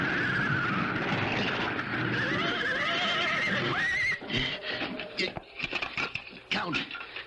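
Horses whinny and neigh loudly amid a dense, chaotic scene in a radio drama, with a stagecoach in motion and hooves and rattling underneath, then broken bursts and clatter as the commotion breaks up; voices are present.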